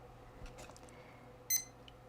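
A kitchen timer is set, giving a few faint button clicks and then one short, bright electronic beep in a quiet room.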